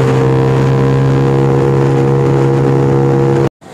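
Kawasaki Ninja 400 motorcycle engine running at high revs on an open road, a loud, steady harmonic drone held for about three and a half seconds before cutting off abruptly.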